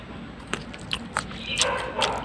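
A fresh, not fully ripe red grape is bitten and chewed at a vineyard, giving a few soft, close crunchy snaps and wet squishes over quiet background noise.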